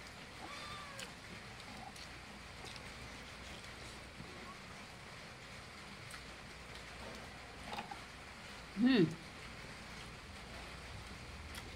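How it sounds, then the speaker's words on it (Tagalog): A pet cat lets out one short, sharp meow near the end, standing out over a faint, steady background hum. "Yung pusa ko nagwawala na."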